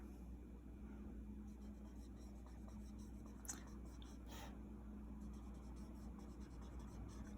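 A pen or pencil drawing lines on paper, a faint, quiet scratching of strokes over low steady background hum, with a couple of brief sharper scrapes.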